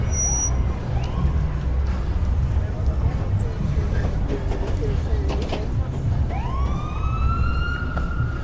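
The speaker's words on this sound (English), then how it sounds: "It wouldn't be Vegas without a siren, that's for sure." Emergency vehicle siren on the Las Vegas Strip during the Grand Prix weekend, wailing and rising under constant street noise and crowd murmur, loud and steady throughout.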